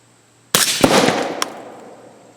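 A single sharp outdoor rifle report from a 300 Blackout hitting a cinder block target, a loud crack followed by a decaying rumble and a second faint impact pop.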